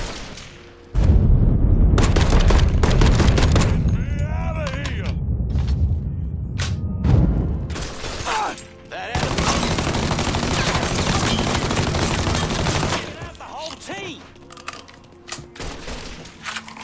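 Bursts of gunfire in the video game Mafia III, with rapid automatic volleys and heavy booming shots close and loud, interrupted by short pauses, as a player talks.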